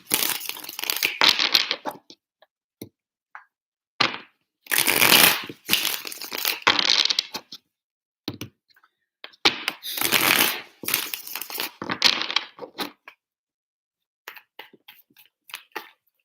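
Tarot cards shuffled by hand in three bursts of crisp riffling and rustling, close and fairly loud, separated by short pauses with a few lighter taps and slides between them.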